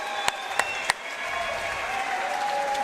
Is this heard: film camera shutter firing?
no